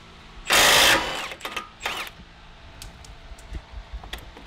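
A wrench working loose the sway bar mount on a Nissan 350z, a close burst of rapid ratcheting whir followed by a few shorter clicks and faint metallic taps.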